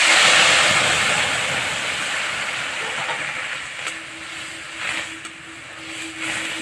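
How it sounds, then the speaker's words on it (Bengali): Dal poured into a hot tempering of garlic, dried red chilli, bay leaf and cumin for a bitter-gourd-leaf dal with bori lets out a loud rushing hiss that slowly fades, with a few soft knocks toward the end. "ডাল আমি এখন ঢেলে দিচ্ছি।"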